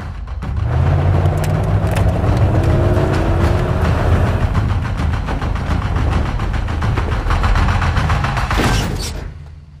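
A car driving in pursuit, with a loud continuous engine roar and road rumble throughout, rising tones at the start and a sharp burst near the end before fading.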